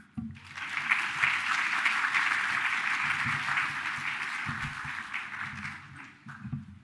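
Steady applause from a conference audience after a lightning talk at the NeurIPS 2025 music workshop, a dense run of clapping for several seconds that tapers near the end.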